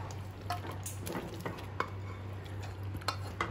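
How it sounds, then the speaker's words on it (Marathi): Vegetables being stirred into a thick pasta sauce in a pan, with soft scraping and gentle clinks of a spoon against the pan over a low hum, fairly faint. "तर भाज्या आता सॉस मध्ये चांगल्या अशा मिक्स करून घ्यायच्यात"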